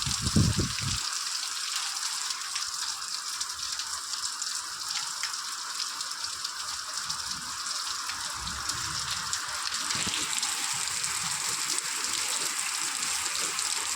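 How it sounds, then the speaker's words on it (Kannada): Steady rain falls over a village with fields of maize and ginger, a continuous, dense hiss of water with scattered drips and splashes. It stays even and fairly close throughout, with no voices. "ಹಾಗಾಗಿ ನಮ್ಮೂರಲ್ಲಿ ಮಳೆನೂ ಕೂಡ ಬಂತು"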